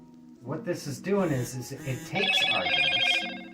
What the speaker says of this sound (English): Oh, sorry about the phone.